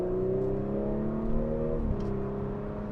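A 2021 Audi S4 engine hums and rises steadily in pitch, then briefly drops as a gear changes before climbing again, heard from inside the cabin.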